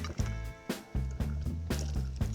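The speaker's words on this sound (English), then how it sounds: "the last ingredient, 1/2 cup of club soda or sparkling water" Club soda is poured into crepe batter in a kitchen as a quiet, bubbly liquid stream with rhythmic glugging pulses about every half second, close and fairly soft.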